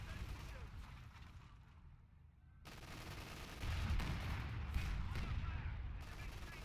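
A 17-pounder anti-tank gun and a King Tiger tank trade fire in a WWII strategy game, with faint booming shots and rumbling battle noise at low volume beneath someone talking.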